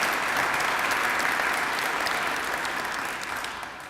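Steady, dense applause from an audience at a fire station dedication and ribbon-cutting ceremony, holding at an even level for several seconds before easing slightly toward the end, with no voices over it.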